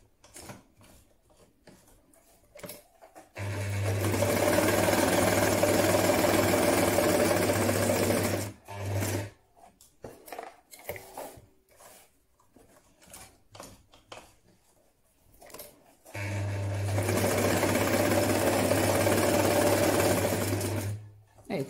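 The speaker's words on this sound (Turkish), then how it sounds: "Olabildiğince kenarından dikmeye çalışacağız." Sewing machine stitching the lining of a crocheted zippered clutch bag, two long steady whirring runs up close, with quiet handling noises and someone speaking in the pauses between them.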